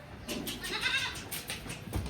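Goats bleat on a goat farm where newborn kids have just arrived, a few overlapping calls close by over steady farmyard background, with no talking.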